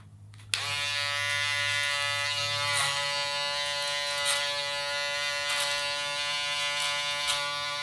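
Electric barber shaver buzzing steadily during a fade haircut, starting abruptly and holding a loud, even hum with small bumps as it passes over the head, close to the microphone with no talk.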